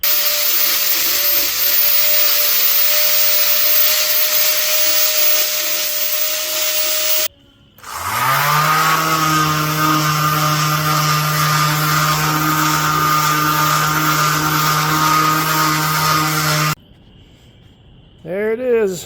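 A power tool grinds cured JB Weld epoxy in a mower shaft keyway, a loud steady high whine holding for about nine seconds after a quieter machine hum, then cutting off abruptly.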